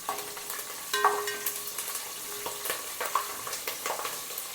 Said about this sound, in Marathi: आता मिरची पण आपण चांगली तळून घेऊया